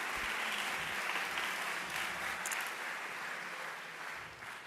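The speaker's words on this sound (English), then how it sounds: "let's give a big round of applause for all the student finalists in the schools" An audience at an international landscape biennial session in Barcelona gives the student finalists a dense, steady round of applause that fills the hall and tapers slightly toward the end.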